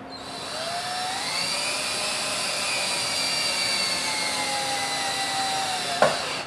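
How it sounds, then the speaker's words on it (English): A power driver runs a screw into a wooden toy box with a steady, close, high whine that holds for about six seconds with slight pitch shifts, then ends in a sharp click as the screw seats. "We're going to run the screw in."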